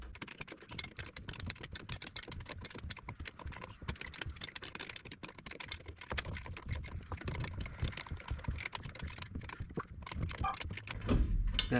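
Regular wrench tightening U-joint bolts on a driveshaft of a Chevrolet C10 truck, producing continuous close metallic clicking and ratcheting rattles with no voices.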